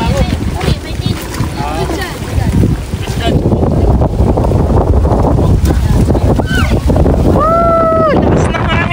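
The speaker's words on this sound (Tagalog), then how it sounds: "Lakas ng hangin" Strong wind buffets the microphone at an outdoor fishpond, a loud continuous roar with gusty rumble throughout and brief higher tonal sounds near the end.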